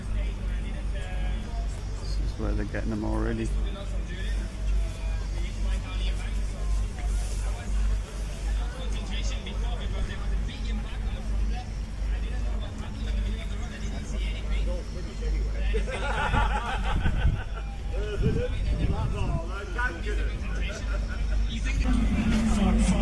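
Car race with engines droning and vehicles passing amid crowd hubbub and steady background noise, while people talk nearby throughout.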